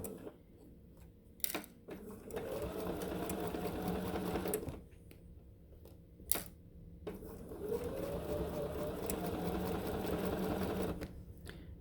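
A sewing machine stitches a bag seam about an eighth of an inch from the edge, running in two long steady bursts with a brief pause and a couple of sharp clicks between them.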